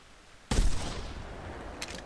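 A single sharp rifle shot in theHunter Classic cracks out loud and close, then rolls into a long fading echo, with a faint later rustle near the end.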